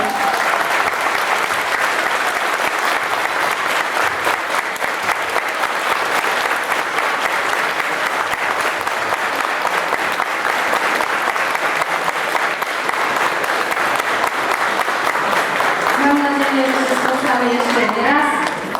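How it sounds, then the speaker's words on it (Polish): Sustained audience applause for young children performing on stage at a local Frozen stage show, a loud, dense wash of clapping filling the whole stretch, with a few voices calling out near the end. "Więc jeszcze raz wielkie brawa dla tych łobów teraz na scenie"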